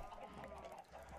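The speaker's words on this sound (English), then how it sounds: "Look at all those chickens." Chickens in the Minecraft video game, a crowded flock clucking continuously and faintly in a dense overlapping wash over a low background rumble.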